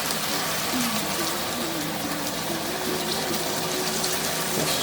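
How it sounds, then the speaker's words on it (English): Hot cooking liquid poured from a provisions pot in a Jamaican kitchen, a steady, close splashing flow of liquid with no talking. "I'm going to take some liquid from the provisions pot."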